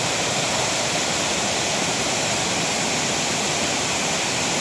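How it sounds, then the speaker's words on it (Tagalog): Kaparkan Falls, a wide multi-tiered waterfall in Tineg, Abra, pours as a steady, dense roar of rushing water that fills the whole clip evenly, loud and close, with no voices. "Ang lawak ng Kaparkan Falls pala."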